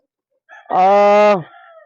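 A single loud rooster crow rings out close by, a drawn-out harmonic call lasting under a second, followed by a brief softer trailing note; a game-farm gamecock.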